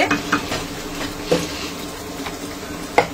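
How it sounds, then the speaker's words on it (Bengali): Fried chicken stirred into a hot, sizzling pan for a spicy chicken roast: a continuous crackling sizzle, broken by several sharp clanks of the spatula against the pan, close and fairly loud. "এখন আমি এই যে চিকেনটা, এই যে ভেজে রাখা চিকেন, সেটা আমি দিয়ে দিচ্ছি।"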